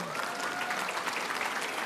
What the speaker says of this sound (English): Doesn't that deserve a round of applause?